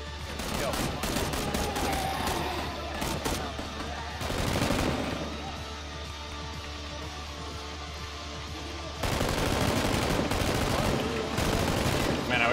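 Rapid bursts of gunfire aimed at zombies in the video game PUBG, dense automatic volleys crackling loud and close in stretches, with brief pauses between bursts and a steady low hum underneath.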